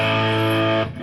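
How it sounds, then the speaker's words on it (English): A Hiwatt Trinity 100 watt guitar amp head in its push-pull overdrive distortion mode holds a sustained distorted chord, loud and steady, then cuts off abruptly into a brief quieter tail. "You pull it out onto this distortion and it's pretty much quieter."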